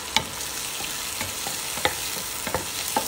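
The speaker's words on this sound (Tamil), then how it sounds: "நல்லா கலரி விடுங்க" Butter, garlic and curry leaves stirred in a frying pan for Chinese-style butter chicken, a soft continuous sizzle punctuated by several distinct spoon scrapes and taps at uneven intervals, with no talking.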